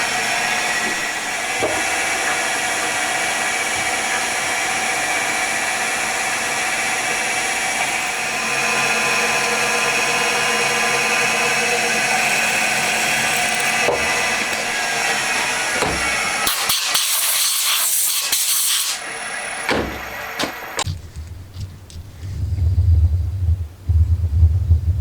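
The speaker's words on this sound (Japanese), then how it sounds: "センタードリル終わったので貫通穴を開けていきます" A drill bores through-holes in lids being made for a Honda Monkey engine converted to four cylinders, a loud steady whirring grind that stops near the end, leaving some clattering handling noise.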